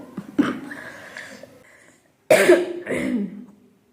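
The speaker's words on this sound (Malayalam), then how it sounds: "പനി വന്നതിന് ശേഷം ചുമ മാറിയിട്ടില്ല" Several harsh, chesty coughs nearby from a young man with lingering phlegm after a fever: one sharp cough, a pause, then a heavier pair of coughs in quick succession.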